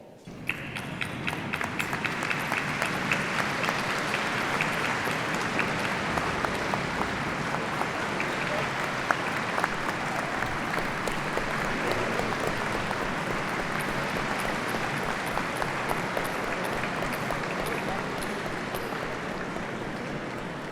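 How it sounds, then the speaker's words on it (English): Long, sustained applause from a large ceremony audience for the standing honorees at the 2022 Ellis Island Medals of Honor, a thick, even roar of many hands clapping that holds steady for about twenty seconds. "please stand so we can applaud all of you"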